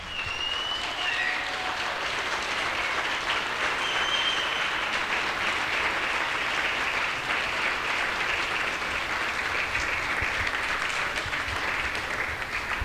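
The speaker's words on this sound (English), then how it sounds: "let's keep that applause going" Wedding guests applauding the father of the bride, a long sustained round of dense clapping at an even level, with a few faint cheers near the start.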